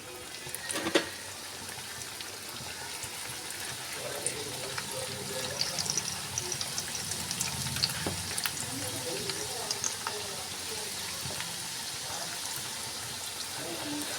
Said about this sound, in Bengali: আবারও আমি একইভাবে বাকি ব্যাচে এগুলোকে ভেজে নেব